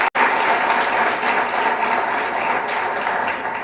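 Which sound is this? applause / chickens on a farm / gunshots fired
applause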